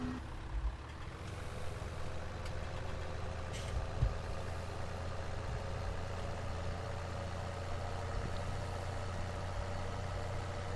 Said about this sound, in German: klingt aber gequält, der Motor hier, du. Der Kompressor.